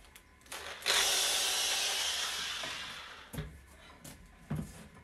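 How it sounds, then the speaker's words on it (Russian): A cordless drill driver whirs steadily for a couple of seconds, its motor pitch easing down, followed by a few short clunks and knocks. "дрель, шуруповерт."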